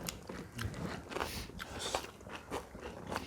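Crispy kimchi pancake being bitten and chewed close to the mic, with several crunchy bites and wet chewing in an uneven rhythm during a dumpling hot pot meal.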